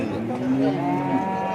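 A single low, drawn-out moo from a bull close by at a weekly cattle market, rising slightly and trailing off.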